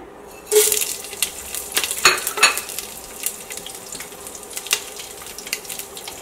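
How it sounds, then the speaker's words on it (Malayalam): A burst of crackling sizzle as spices hit hot ghee, with sharp pops and spatters scattered over a steady frying hiss. "നമ്മൾ നെയ്യ് നന്നായിട്ട് ചൂടായിട്ടുണ്ട് നെയ്യിലേക്ക് നമ്മുടെ സ്പൈസസ് ചേർക്കുകയാണ്"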